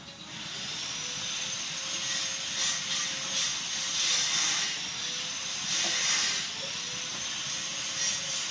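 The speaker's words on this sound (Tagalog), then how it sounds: "kumukulo na yung ating gata" Coconut milk (gata) boiling in a cooking pot with tulingan fish, giving off a steady bubbling hiss with a faint rolling rumble. The sound is close and continuous, with no talking.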